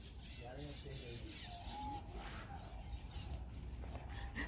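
Birds in a flower garden calling, faint cooing and chirps scattered under continuous conversation.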